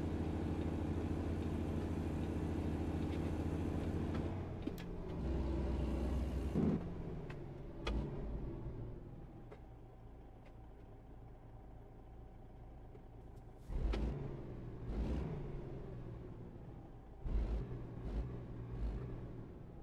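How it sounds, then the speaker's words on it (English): Kenworth K100E truck in American Truck Simulator, its engine rumbling low and steady while driving, with occasional brief thumps and shifts in tone as the truck changes gear or loads the engine; fairly quiet overall. "Beautiful truck, drives really well."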